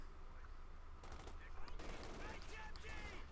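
MG42 machine gun fire in the Company of Heroes 2 video game, with rapid bursts of automatic gunfire crackling over a steady battle din, fairly close and loud, with rattling shots clustered toward the end.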